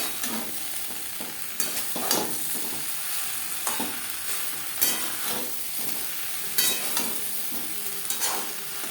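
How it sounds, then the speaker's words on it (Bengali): A spoon stirs raw green banana with a roasted spice mix of coriander, cumin, bay leaf, dried chilli and peppercorn in a pan for katla fish curry, giving repeated scraping strokes over a soft, steady sizzle. "কাঁচকলার সাথে ভাজা মশলা বেশ ভালো করে মিক্স করে দেবো।"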